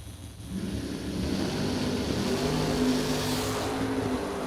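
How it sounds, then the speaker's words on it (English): A Camaro drag car stages at the start line, its engine idling then revving into a steady, loud droning roar with rising pitch, other engine noise in the background. "Fuzzy in the Camaro, patiently staging the vehicle"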